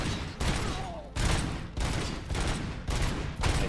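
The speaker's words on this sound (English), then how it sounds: "These gunfights are actually getting kind of serious now." Gunfire fills a firefight in RoboCop: Rogue City, loud bursts of rapid shots repeating in rough bursts about every half second to second, dense and continuous, with only faint voice beneath.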